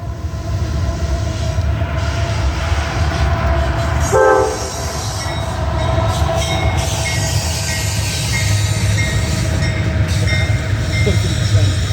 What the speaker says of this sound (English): This train we saw was a eastbound CSX intermodal.